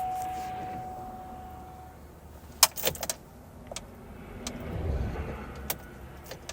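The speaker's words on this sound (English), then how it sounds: "My car does this whenever it's cold outside." A car in cold weather makes its usual noises: a low idle rumble with a brief tone early on, then sharp clicks and clunks like a door or mechanism, and a swelling hum near the end.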